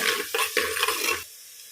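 Onions fry in a pan with several close, scraping stirs over a sizzle that stops abruptly near the end.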